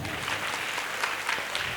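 Audience applause at a comedy speech during a village temple fair, a steady broad crackle of many hands clapping that holds evenly throughout the short stretch without breaks.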